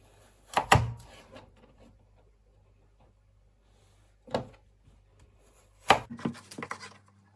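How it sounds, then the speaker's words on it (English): A knife slices a carrot on a board in three sparse, crisp strikes spaced a few seconds apart, close and clear in a quiet kitchen. "I'm going to slice my carrot."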